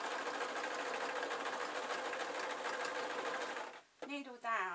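A sewing machine runs in a steady, fast, continuous whir while stitching a spider soft toy, then stops near the end as a voice begins speaking.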